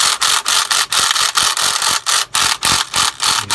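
Ratchet wrench loosening bolts on a Volvo D13 diesel engine during an injector change: a close, loud run of rapid metallic clicking, broken into about a dozen short bursts separated by brief pauses as the handle swings back.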